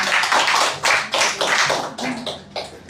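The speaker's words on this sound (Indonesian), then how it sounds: "kita tepuk tangan buat Mas Dur" A small group gives a short round of hand clapping for a guest named Mas Dur, uneven and close, arriving in several quick bursts over a few seconds.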